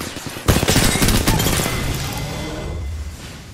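Rapid burst of gunfire in Apex Legends, a dense rattling volley that starts abruptly and tails off over a few seconds, fairly loud with no talk over it.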